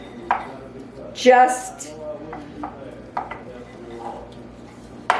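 Wooden spoon knocking and mashing fruit pizza topping in a bowl, with scattered taps and one louder scraping burst, under a little speech.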